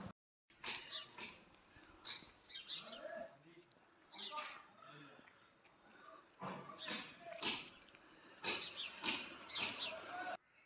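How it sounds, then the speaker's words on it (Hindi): Sharp bird chirps and tweets come in scattered clusters around sunset in Shimla, bright and fairly close, with a few gaps of quiet between the calls. "इतनी सारी इस समय चिड़ियों की चहचहाहट आवाज़ आती रहती है"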